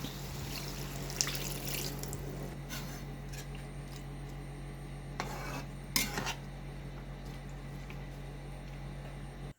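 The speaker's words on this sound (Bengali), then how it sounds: "এখন আমি পানি দিয়ে দিব।" Water is poured into a pan of chicken curry, giving a faint splash and a couple of short metallic clatters against a steady low kitchen hum.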